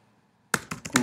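Computer keyboard keys are tapped in a quick cluster of four or five clicks as code is typed, close and clear after a moment of near silence.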